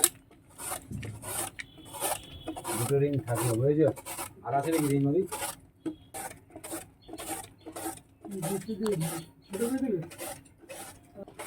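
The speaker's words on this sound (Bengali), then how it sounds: "ওলটা আমি ঘষে নিচ্ছি" Elephant foot yam being grated by hand in a home kitchen, a series of rasping scrapes in short bursts, with someone speaking over and between the strokes.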